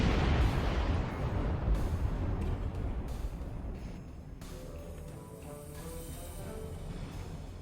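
A starship destroyed in the Star Trek Online video game, bursting in a loud rumbling explosion that rolls and fades into lingering crackling debris, with no talk.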